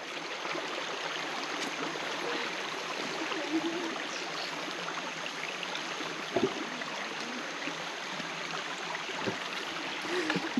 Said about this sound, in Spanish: Es que el caudal del río está muy, muy grandecito.